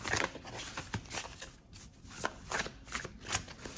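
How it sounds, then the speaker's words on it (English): A deck of oracle cards is shuffled by hand up close, repeated crisp riffling bursts of card edges flicking together in quick succession, loud and alone without talk. "I want to draw an oracle card here about this."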